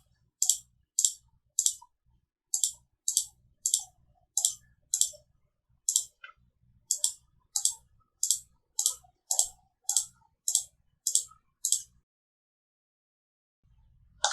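Crisp mouse clicks and key taps while working in a CAD program, about twenty sharp isolated clicks in uneven pairs and runs, close and quiet.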